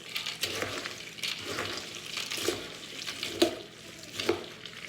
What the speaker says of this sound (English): you just keep bringing it up as you're stirring. Just keep going around the pan.